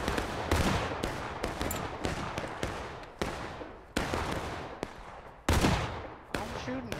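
Gunfire in the Civil War shooter War of Rights: a dense, irregular string of rifle shots, some close and sharp, others distant and muffled, overlapping in a continuous battle.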